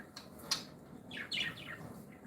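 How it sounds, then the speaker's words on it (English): Pet birds chirp indoors in short, bright bursts: a sharp single call, then a quick run of rising trills, fairly faint and with no talking. "these are new birds."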